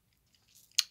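Someone chews popcorn close up in a quiet room: faint soft mouth noises, then one sharp, brief crunch near the end, with no talking.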